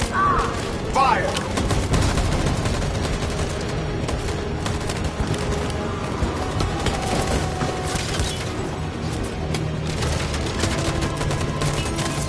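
A gunfire volley in the game Detroit: Become Human, heard as dense, continuous rifle fire with crackling shots and booms all the way through, loud and close, with a brief voice near the start.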